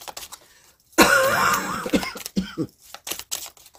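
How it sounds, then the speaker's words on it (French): A harsh, close cough bursts out, followed by a few shorter coughs and some throat clearing. "Désolée pour cette toux"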